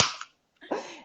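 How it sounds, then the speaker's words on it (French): A small can of tonic water cracked open, a sharp snap and fizzy hiss at the start, a brief pause, then a second burst of hissing fizz, close and fairly loud. "moi, c'est une petite canette, fait que je vais ouvrir la canette"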